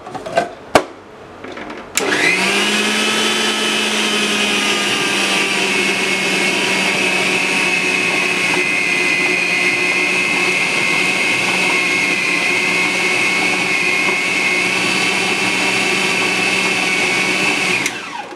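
After a couple of brief knocks, a food processor kneading atta dough starts up and runs as a loud, steady, close motor whine with a low hum, continuing unbroken until it stops at the very end.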